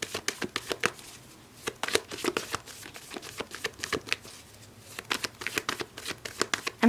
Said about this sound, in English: as I'm shuffling this deck here